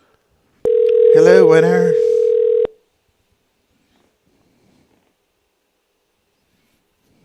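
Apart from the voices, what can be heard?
telephone line ringing and dialing for a radio call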